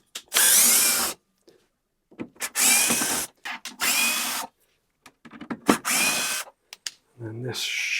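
Screws come out of an MFT workbench in short bursts of a powered driver, each whirring for about a second with gaps of quiet between, close and fairly loud.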